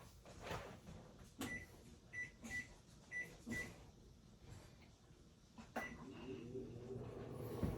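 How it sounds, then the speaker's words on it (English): A microwave oven baking an apple cake: low steady hum with faint clicks and a few short tonal beeps near the start, plus a door-like clunk partway through, fairly quiet and close. "I'm gonna throw it in the microwave right now"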